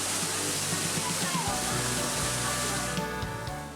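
A waterfall roars with dense, steady rushing water, loud and continuous, while a voice speaks over it.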